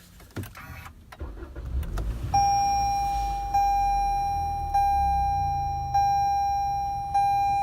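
A 2018 Toyota Camry engine cranks and rumbles to life, followed by a steady idle and a repeating electronic chime that sounds every second or so.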